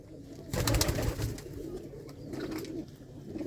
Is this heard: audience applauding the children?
no